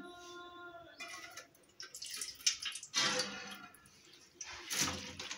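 Soaked lentils tipped into a sieve set over a pot, with water splashing and trickling through the mesh in bursts, then draining and dripping below.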